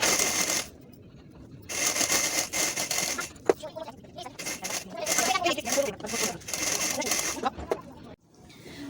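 Trouser fabric running through a sewing machine in long bursts of steady whirring stitching, broken by short pauses, close and fairly loud.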